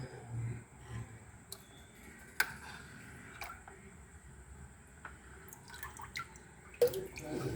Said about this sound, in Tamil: இப்போ அளவாக நம்ம தண்ணி எடுத்துக்குவோம்.